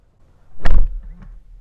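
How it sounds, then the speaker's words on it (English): A single soft, muffled thud of a 2024 BMW i7 eDrive50 electric car's soft-close door closing, followed by a faint latch click a moment later. "this thing sounds incredible when you shut the door. It's like a soft close."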